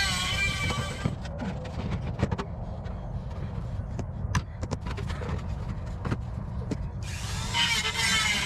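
A Dremel rotary tool grinds a small knurl off a metal shaft, its high thin whine heard in a short burst at the start and again near the end, with clicks and handling noises between.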